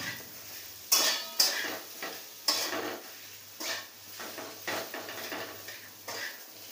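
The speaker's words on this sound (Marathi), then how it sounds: "पाच ते 10 मिनिटं अशी परतून घेणार आहे मी ही भाजी" Vegetables for bread cutlets sautéed in a pan, with repeated metal spoon scrapes and clinks against the pan over a soft frying hiss, close and without speech.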